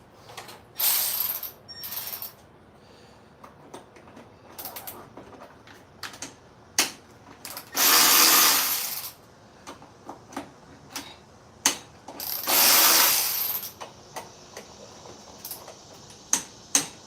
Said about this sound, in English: I guess I'm going to have to pull this throttle body